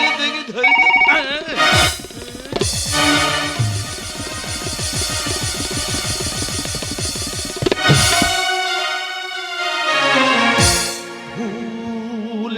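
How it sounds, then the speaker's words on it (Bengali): A telephone rings loudly and close during a comic Gajon song performance, playing a melodic tonal ringtone in long repeated phrases with short breaks. "বলতে বলতে ফোন এসে গেল বাবা"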